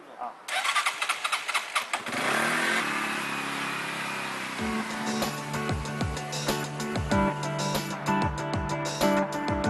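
A motorcycle engine starts with a spluttering burst, then settles into a busy, rhythmic idle with repeated revving blips, close and loud over street noise.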